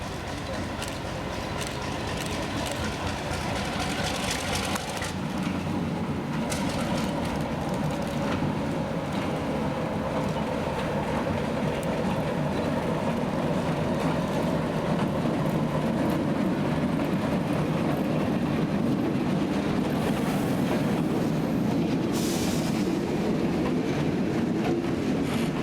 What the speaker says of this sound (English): the 114 would do a quick little run-by before the passengers were to board the train